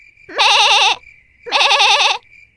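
A cartoon sheep bleats twice, loud and close, each wavering, vibrato-laden call lasting about half a second with a short pause between them.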